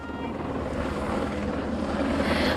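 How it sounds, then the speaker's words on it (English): A helicopter lands in front of a high school during flood rescue operations in Kerr County, Texas, giving a steady, loud rotor and engine drone mixed with wind noise over the microphone. "What you're watching right now is another helicopter landing in front of the high school"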